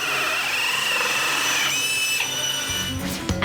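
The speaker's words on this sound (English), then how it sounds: "Did you hear the sound of the drill as it made the plug hole?" A power drill whines steadily at a high pitch while boring a plug hole in acrylic, then shifts and winds down with a few clunks near the end.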